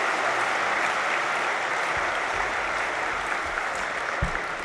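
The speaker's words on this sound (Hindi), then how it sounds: "जोर से ताली बजाएंगे" Dense, steady applause from a large spiritual gathering as bouquets are presented to senior members, a continuous wash of many hands clapping at an even level throughout.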